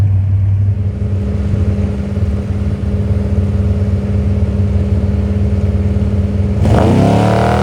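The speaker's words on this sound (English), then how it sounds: "Davis and Robinson taking off" Off-road desert race vehicles at Vegas to Reno qualifying, a loud steady idling engine rumble that suddenly bursts into a sharp revving acceleration as one takes off near the end.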